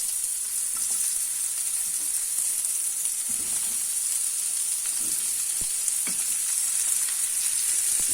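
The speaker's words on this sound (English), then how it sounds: "we're going to stir fry our vegetables now. We're going to start with the onion" Onion stir-frying in a pan, a steady close sizzle and hiss of frying with a few faint clicks of stirring, no voices.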